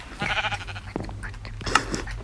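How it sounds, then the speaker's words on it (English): A Minecraft sheep bleats a few times, near and fairly loud, with short wavering cries over a low game background. "A sheep came in. Sheep, get out."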